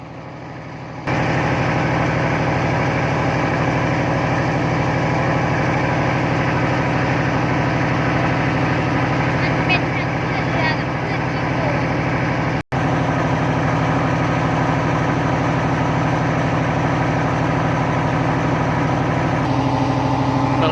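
A large fishing boat engine drones loudly and steadily at close range out at sea in the Gulf of Thailand off Pattani, a constant low rumble with a faint brief break partway through.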